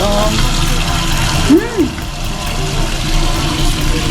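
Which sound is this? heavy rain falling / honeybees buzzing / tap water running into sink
tap water running into sink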